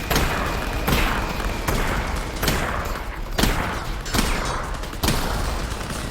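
Gunfire in the VR game Half-Life: Alyx: loud, dense rounds of shots and booming impacts in bursts roughly every second, filling the space with little pause and no clear speech.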